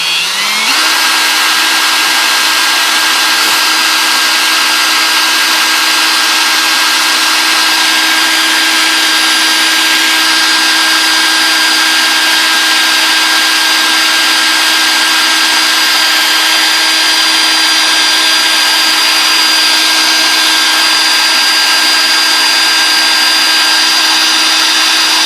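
A drill spinning a B44.2 differential at low speed during break-in, a loud, steady, continuous whirring drone with a constant tone that does not change for the whole stretch, with no talk.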